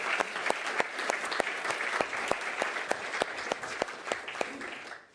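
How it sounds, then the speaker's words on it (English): Moderate applause from the audience at an India-Sweden trade and investment policy forum, with one nearby clapper striking a steady, distinct rhythm over the softer crowd clapping until it stops. "Please. Applause."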